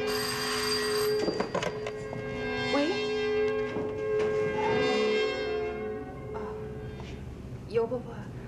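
A telephone rings in a home with a sustained bell-like tone that recurs over several seconds, loud and near, with some voices around it.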